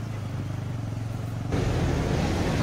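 A motorcycle riding on National Highway 34 past the Baharampur–Farakka toll gate, a steady engine drone with wind rumble that grows slightly louder partway through, no voices.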